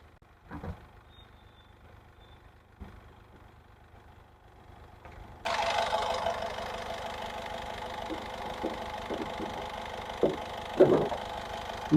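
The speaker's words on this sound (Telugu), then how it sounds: "ఇంజన్ బీటింగ్ కూడా చూడండి, చాలా అంటే చాలా స్మూత్ ఉందండి. డీజిల్." A diesel Honda City engine idles smoothly with a steady low hum that grows louder partway through, as if the bonnet were opened, with a few light knocks and handling noises over it.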